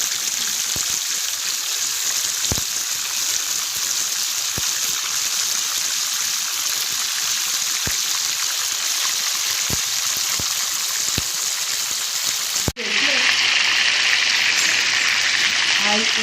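Chicken and okra deep frying in hot oil, a steady loud sizzle running throughout with a few sharp pops, then a sudden shift to a brighter, hissier fry near the end.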